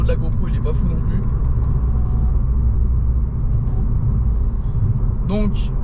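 A Renault Clio 4 RS engine drones steadily in low rumbling tones while driving, with bursts of talk over it throughout.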